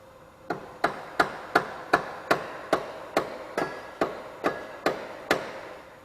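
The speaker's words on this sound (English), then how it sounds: "Taps of the hammer" Steady hammer taps ring out about three per second, a dozen sharp close strikes with short decays over a faint background, during a coilover install on a Mazda RX-7.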